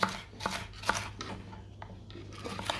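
A knife slices ingredients into thin strips on a cutting board for a Kilis tava dish, with quiet, close, irregular chopping taps.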